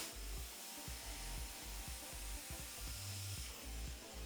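Hair dryer blasting hot air onto styled hair during a blowout, a continuous loud whooshing roar with rhythmic low thumps as a brush moves through the hair.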